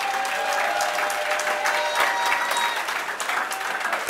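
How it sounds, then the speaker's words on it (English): A political rally crowd in Chaguanas gives a round of applause, sustained, thick clapping from many people filling the space at an even level. "Let's give the unions a round of applause"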